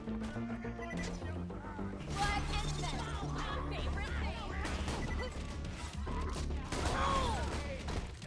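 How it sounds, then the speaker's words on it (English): Grenades explode over and over in the Borderlands 2 video game, with heavy bursts of blast noise crashing through loud game music across the whole stretch. "Nade spam!"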